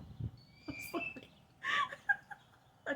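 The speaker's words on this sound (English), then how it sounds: "These birds, bro, like, I don't know if y'all can hear it." Birds chirp outdoors in scattered short calls and whistles, with a few sharper chirps standing out over a quiet background and no talking.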